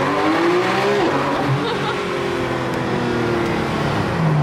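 Porsche 992 GT3 engine revving loud and close inside a road tunnel, a sustained rising and falling drone with rolling pitch changes and tire noise throughout.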